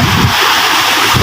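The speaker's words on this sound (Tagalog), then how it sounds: "isog hangin" Strong wind buffets the microphone by the sea, a loud roaring rush with crashing surf beneath, brief and continuous.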